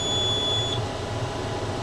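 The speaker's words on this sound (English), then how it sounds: "that horrible alarm, that's telling me that we've run out of net wrap" A tractor-drawn baler's warning alarm sounds because the net wrap has run out, a steady high electronic tone holding for under a second and then cutting off, over the continuous low rumble of the running tractor.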